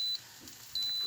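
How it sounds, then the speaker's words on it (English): A Deluxe Grill & Griddle timer beeps twice, short high electronic tones spaced under a second apart, close and fairly faint over quiet room hum. "The timer goes off."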